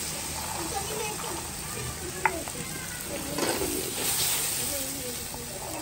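Green peas fry and sizzle in a pan in a village kitchen, a steady hiss with stirring scrapes and a sharp clink, while people talk and children's voices sound faintly in the background.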